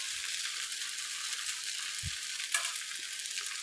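Maggi noodles frying on low flame in a heavy-bottomed pan, a soft, steady sizzle with a couple of faint knocks and rattles, quiet and continuous with no talk.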